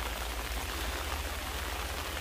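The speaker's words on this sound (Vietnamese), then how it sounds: "mặc dù trời mưa" Steady rain falls on a cemetery, a dense even patter of drops close by, with no talking.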